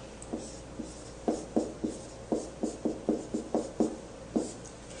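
Pen or chalk writing out notes on a board or paper in a quiet room: a dozen or so short scratchy strokes in quick irregular bursts, close and fairly soft, with no talking.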